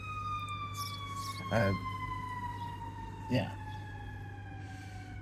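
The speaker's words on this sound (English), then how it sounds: "The siren appears to be interrupting me." A distant fire truck siren wails steadily with a slowly falling pitch, passing by under a low background hum while a person briefly speaks.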